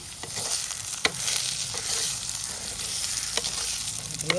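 Boiled cowpeas hit a hot pan and fry for a curry, giving a steady, loud, close sizzle with a few sharp clacks of stirring scattered through it and no talking.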